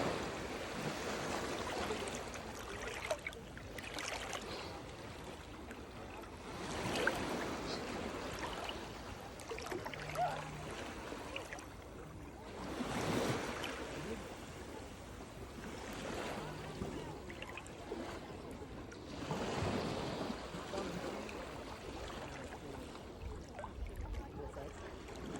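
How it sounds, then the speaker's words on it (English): Atlantic ocean waves at Crystal Crescent Beach, Canada, faint surges of surf washing in and out every few seconds over a soft continuous hiss of water. "so you can listen to the waves."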